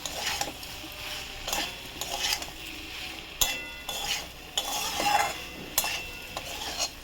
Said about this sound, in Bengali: স্বাদ মতো চিনি দিয়ে দিলাম, দিয়ে আবার নাড়বো।